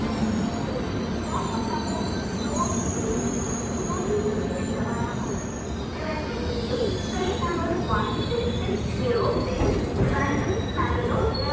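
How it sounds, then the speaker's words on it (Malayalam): The Mysore–Kochuveli express rolls into a station with a steady rumble of wheels on rail, plus squeals and clanks from the coaches. Platform chatter runs faintly underneath. "അതേ മൈസൂർ കൊച്ചുവേളിയാണ് കയറി വരുന്നത്"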